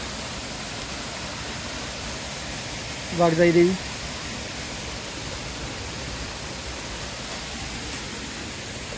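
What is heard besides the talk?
waterfall behind Waghjai Devi temple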